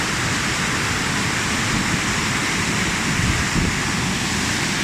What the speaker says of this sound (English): Mesmerizing beauty of the Khalgaon Waterfall.